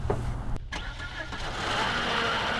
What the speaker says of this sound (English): let me burst that bubble by popping the hood and turning the car on